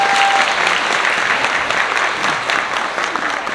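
Wedding guests give a continuous, even round of applause for a wedding song sung by the bride's younger brother, filling the room at steady loudness.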